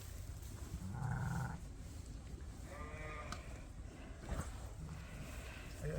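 Sheep and lambs bleat in a barn during winter lambing, a few short cries spaced apart at moderate distance over a quiet, hollow background.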